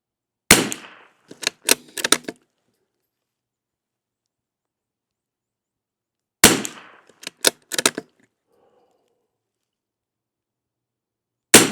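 Two quick strings of CCI SV rimfire rounds lubed with bear grease, four or five sharp cracks each, loud and close, separated by several seconds of silence.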